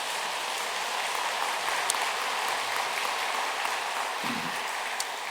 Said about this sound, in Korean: 다시 한번 뜨거운 박수 올려드리겠습니다.